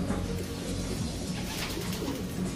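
A pigeon coos in its loft during very strong wind, the low repeated coos sitting close and steady beneath a constant roar of gusting air.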